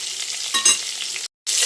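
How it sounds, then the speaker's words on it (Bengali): Pointed gourd (potol) fries in a pan over high flame, a loud continuous sizzle with a brief stirring swell partway through, a short cut, then more sizzling. "তো হাই ফ্লেমে 2-3 মিনিট মতো পটলটাকে ভেজে নিয়েছি।"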